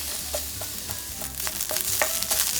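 Carrots and onions stir-frying in sesame oil over medium heat for a Chinese rice bowl, a steady sizzle broken by a series of spatula scrapes and stirs, close and alone with no talking.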